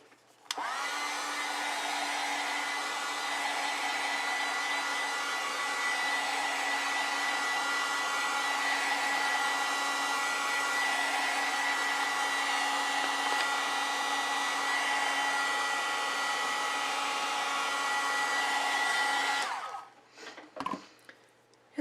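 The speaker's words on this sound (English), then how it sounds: "let's dry that" A handheld hair dryer blows across a freshly painted watercolor landscape, a loud, steady whirring roar lasting about twenty seconds before it clicks off, followed by brief handling noises.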